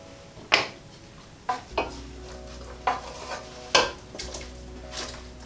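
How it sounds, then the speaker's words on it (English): A spoon stirs chunks of sweet potato and butternut squash into an onion and stock mixture in a pot, producing a few distinct knocks and scrapes spaced about a second apart over a faint simmer, no talking. "we're now just going to combine the sweet potato and the butternut squash with the onion and stock mixture"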